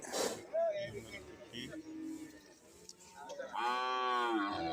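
Cattle and buffalo calves at a busy livestock market, with a long close moo rising near the end over a dense murmur of people talking nearby.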